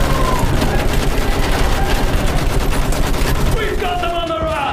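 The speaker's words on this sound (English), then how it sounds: "Use that machine gun! Mow them down!" Battlefield 1 machine-gun fire rattles in a loud, rapid, continuous stream of close shots, with shouting voices and battle noise underneath.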